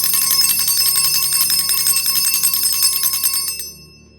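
A small hand bell rung during a tarot reading, shaking out a rapid, continuous metallic ringing for about three and a half seconds before stopping abruptly into silence.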